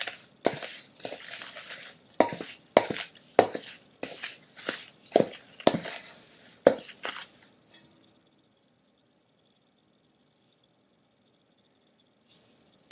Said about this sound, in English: you're going to stir that with a wooden spoon